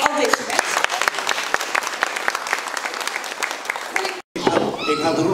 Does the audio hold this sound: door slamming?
no